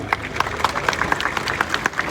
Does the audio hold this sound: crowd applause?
yes